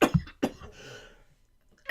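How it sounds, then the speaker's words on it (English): A person with a lingering cough lets out two or three sharp, close coughs in quick succession, followed by a faint breathy trail and another burst at the end. "I just don't know when this cough is going to be gone."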